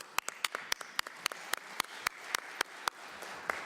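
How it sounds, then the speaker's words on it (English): Sparse, scattered clapping from a small audience at an IPU Assembly standing committee session on UN affairs, thanking the panelists; a dozen or so distinct, fairly close claps with no voices. "we will give them an applause"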